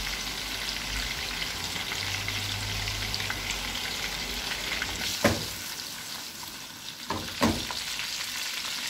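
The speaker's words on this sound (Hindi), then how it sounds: "मीट बॉल डाली है, अब इन्हें 8 से 10 मिनट तक फ्राई करेंगे" Meatballs fry in a pan with a steady, close sizzle and crackle throughout, marked by a few sharper spits and pops near the end, with no talking.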